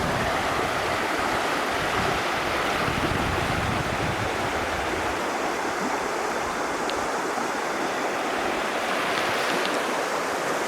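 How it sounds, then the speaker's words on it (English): River water rushes steadily after recent rain, a dense continuous roar of fast-moving current at an Australian bush river, loud and close with no voices. "Had a fair bit of rain recently, so there's a lot of water moving through"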